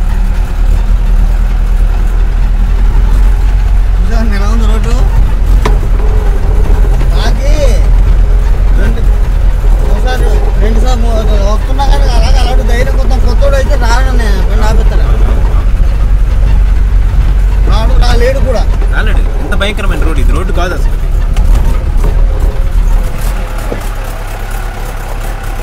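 A car engine drones low and steady as the car pulls away down a rough, rutted road, with the rumble staying loud and constant while someone talks over it almost all the way through.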